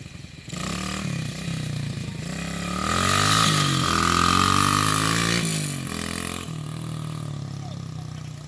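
A small pit dirt bike engine revs and climbs in pitch as the rider pulls a wheelie, fairly close and loud, then settles back to a steady drone.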